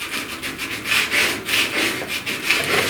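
Coarse 80-grit sandpaper scrubs across car body filler on a pickup cab corner repair in quick back-and-forth strokes, a close, rhythmic abrasive rasp with no voices.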